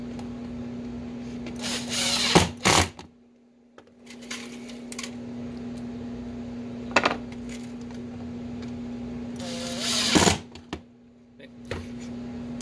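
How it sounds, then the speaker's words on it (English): Square-head Robertson wood screws are driven into a wooden pistol rest in several bursts of grinding turning, with quiet gaps between them and a steady low hum underneath. "So I'll finish screwing this on"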